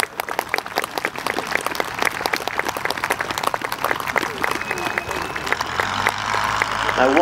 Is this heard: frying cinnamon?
no